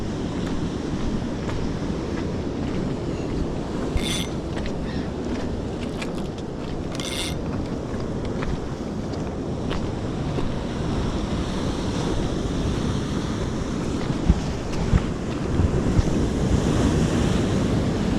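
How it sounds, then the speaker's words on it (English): Nor'east swell breaks on coastal rocks where rock blackfish are fished off cunjevoi, making a continuous heavy surf roar close by, with gusting wind buffeting the microphone and occasional brighter splashes. "Ones are breaking out that way and the others are just rolling under at my feet here."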